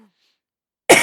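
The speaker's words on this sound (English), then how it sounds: "I just coughed." A single abrupt cough bursts out close up after near silence and cuts off at the end.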